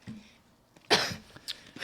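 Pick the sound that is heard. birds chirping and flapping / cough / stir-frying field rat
cough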